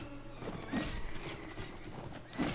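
A horse in the video game Mount & Blade moves with a few hoof clops and scuffs amid battle ambience, fairly close and moderately loud, without speech.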